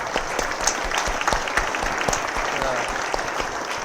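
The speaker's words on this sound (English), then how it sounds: "maybe a round of applause for the 300 million" Audience applause at the Lobito Corridor symposium, a full, steady roar of many hands clapping throughout, loud and sustained with a few voices underneath.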